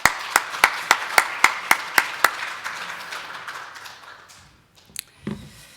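A church congregation claps in rhythmic unison to welcome a preacher to the pulpit at an elder ordination service, about nine sharp, evenly spaced beats before the sound tails off into quiet room noise with a few stray knocks.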